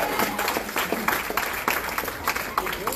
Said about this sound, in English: let me get a round of applause for Victor Midorian